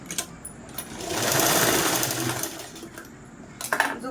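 A sewing machine stitches a tuck into a blouse, its rapid needle chatter swelling to a steady run in the middle and easing off, with short bursts at the start and end and no talk.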